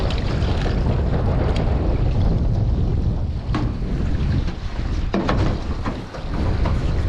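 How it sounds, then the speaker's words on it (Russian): A small boat turns on open water while lines are checked, with steady wind buffeting and water rushing constantly throughout, with a few brief knocks. "Вот лодка уже повернула у нас."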